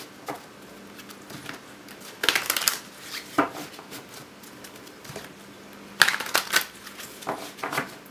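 Tarot cards being shuffled: a fairly quiet, intermittent papery riffle with soft slaps and bursts of flicking, two longer shuffling flurries, no talking.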